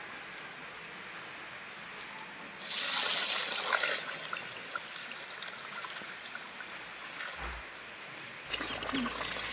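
Harvested paddy grains from the field being washed by hand in water before making flattened rice, with steady sloshing and a brief louder gush of pouring water, close by.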